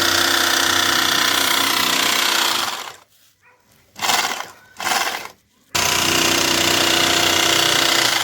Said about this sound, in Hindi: और अब सिलाई करनी है मतीन ने।